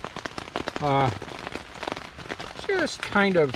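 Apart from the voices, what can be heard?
rain falling on a tent in the morning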